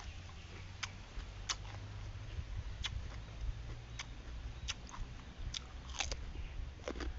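Close, crisp crunching bites of raw carrots repeat irregularly over a low rumbling background, each crunch sharp and brief.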